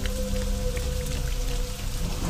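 Dense, heavy rain hisses and patters loudly and without pause, a thick continuous downpour with steady low tones underneath and no voices.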